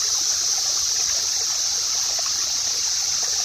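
Steady rushing waterfall flowing over cicadas, a continuous loud hiss of falling water with no breaks and no voices.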